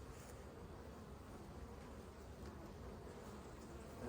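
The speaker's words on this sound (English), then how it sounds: "I see a whole bunch of bees." Honey bees buzz in an open hive during a colony inspection, a steady, faint, continuous hum with no voices present.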